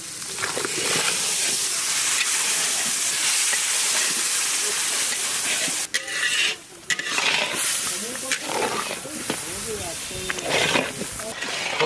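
Turmeric and Kashmiri chilli powder frying in a pan, giving a steady loud hiss and sizzle with scraping stirs, as people talk over it.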